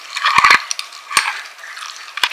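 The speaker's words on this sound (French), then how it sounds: "Je mélange tout." A spoon stirs oat flakes, milk, vanilla sugar and dark chocolate chips in a bowl, making a few close, bright clinks and scrapes against the dish between quieter swishing.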